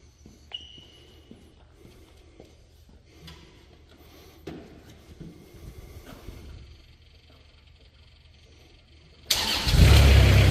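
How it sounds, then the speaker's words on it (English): The Kubota engine of a 2014 Moffett M55 truck-mounted forklift cranks and fires at the very end, a sudden loud start following several seconds of quiet clunks and handling noises. "Hear that Kubota come to life."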